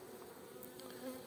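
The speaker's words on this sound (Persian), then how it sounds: "زنبوری که میخواد بره زمستون گذرانی کم کم." Honeybees of the Caucasian and Carniolan breeds hum in a full hive before overwintering, a soft steady buzzing drone with faint rising tones, quiet and close, no voices.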